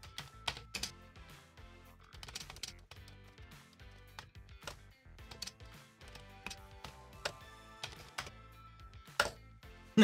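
Keys clack steadily on a Commodore 64 keyboard as a BASIC program is entered, with irregular bursts of close, crisp keystrokes and short pauses between them.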